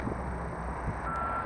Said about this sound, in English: they've been backing these dump trucks just down the hill to dump their loads